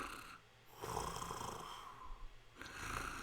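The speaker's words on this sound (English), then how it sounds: "Like something large is snoring." A large creature snoring as a tabletop role-playing game sound effect: slow, rasping breaths rise and fall in steady swells, moderately loud over a soft rumbling background.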